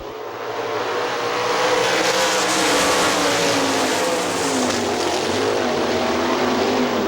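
Sprint cars race in a tight bunch on the dirt oval at Hartford Speedway Park, engines roaring loud and steady as the pack sweeps past without a break.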